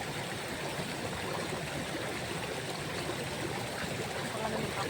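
Creek water flows with a steady, even rushing and burbling that stays constant throughout, moderately faint and without clear talk over it.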